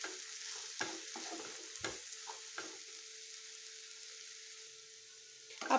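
Eggs and okra fry in a pan over a lowered gas flame, a soft continuous sizzle broken by a few stirring scrapes and clinks, close and quiet with no talk.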